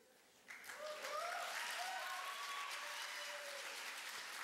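An audience at a high school fine arts festival awards ceremony breaks into sustained, fairly close applause that swells within a second and holds steady, with a few voices faintly underneath.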